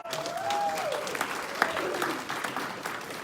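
Audience applause at a Texas political group's liaison training event, moderate and fairly close, with a voice or tonal sound gliding over the clapping early on.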